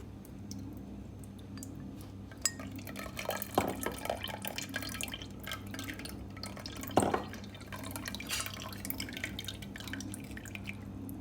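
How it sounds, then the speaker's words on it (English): Cold water trickles and drips steadily over cooked sago pearls in a kitchen while a mango sago dessert is being made. The sound is soft and close, with a few louder splashes. "I'm going to put little cold water on the top."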